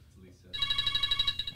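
A phone rings with an incoming call, starting after a brief quiet moment and sounding as a loud, close, rapidly pulsing electronic ring tone that continues steadily, with a voice faintly audible underneath.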